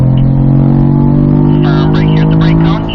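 Race car on a track (Spring Mountain Motorsports Ranch North Track) accelerating out of a corner, its engine a loud, steady in-cabin drone throughout, with a person talking over it.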